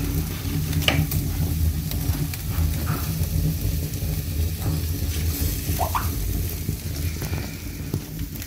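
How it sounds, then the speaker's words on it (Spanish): Matambre and flank steak sizzle on a grill over glowing embers, a steady close crackle and hiss with scattered pops, continuous throughout with no talking. "Escuchen el sonido que se está cocinando."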